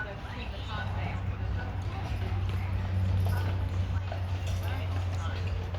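Horse hooves clip-clop steadily at a harbour marina in Vancouver, BC, a continuous rhythmic patter under a constant low rumble, with people talking nearby.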